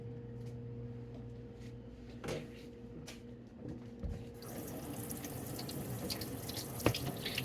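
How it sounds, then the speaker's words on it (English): Tap water runs steadily into a kitchen sink while a knife is washed after cutting garlic, the flow growing louder and fuller partway through, with a few clinks. "I always suggest washing your knife after cutting garlic"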